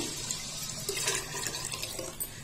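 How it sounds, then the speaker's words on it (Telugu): Water splashing and pouring onto washed rice in a cooking pot, a short wet gushing with small bubbling bursts, close and moderately quiet. "దాన్ని కడిగి దానికి సరిపడా నీళ్లు పోస్తున్నాను."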